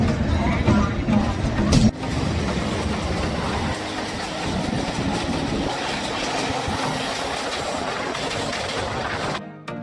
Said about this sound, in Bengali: হাওড়া স্টেশন থেকে ট্রেন আমাদের ছেড়ে দিল।